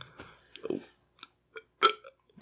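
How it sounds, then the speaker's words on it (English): A person's stuck burp comes up as a short, soft belch among small mouth clicks and swallowing noises, close to the microphone in a quiet room with no talking. "I have this burp just wanting to come up"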